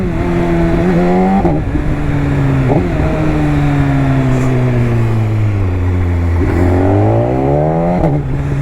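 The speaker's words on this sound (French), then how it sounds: "là on entend bien le shifter claquer" A BMW S1000RR HP4 sport motorcycle accelerating hard through the gears, engine pitch climbing and dropping with each quickshifter upshift, loud, close and continuous with no talking.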